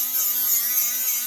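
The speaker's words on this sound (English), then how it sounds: "we took his pipe off his dirt bike. And we're gonna try and make it into like a works pipe. So we're sanding it down" A dirt bike exhaust pipe, a Yamaha YZ125X's, being sanded down gives a continuous high, steady rasping hiss with a faint humming tone beneath, close and unbroken, with no talking.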